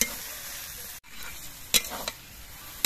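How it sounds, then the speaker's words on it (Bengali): Garam masala stirred into banana flower frying with shrimp, a steady sizzle with a brief gap and a few sharp scraping strokes of the spatula, close and fairly loud, no talk. "গরম মশলা গুঁড়ো দিয়ে নেড়ে চেড়ে মিশিয়ে নিয়ে আমি মোচাটা নামিয়ে নেব।"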